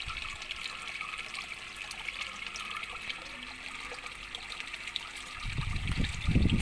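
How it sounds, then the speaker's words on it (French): A cheap Aldi pond pump running submerged in water, giving a steady trickling, bubbling hum that grows louder and splashier near the end; no voices. "On entend bien le bruit de la pompe."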